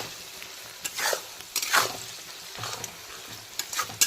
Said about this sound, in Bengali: এখন পেঁয়াজের বাকি অংশটাকেও খুব ভালো করে ভেজে নিতে হবে